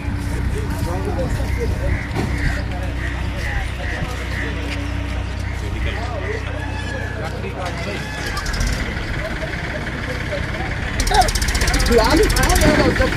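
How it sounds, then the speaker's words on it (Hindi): A tractor engine runs steadily close by, a loud rough mechanical drone with rattling, while people talk over it and the noise grows rougher toward the end. "ट्रैक्टर"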